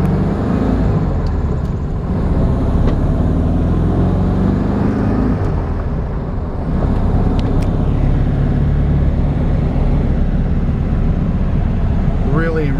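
A 1967 VW Beetle with a manual gearbox drives along, its engine droning and rising in pitch close up inside the cabin while someone talks over it.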